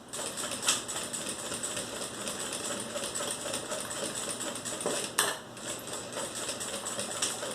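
Sewing machine stitching a beginner-level notebook case at stitch length 3.5, a steady continuous mechanical whir with close, even texture and a brief louder clack partway through.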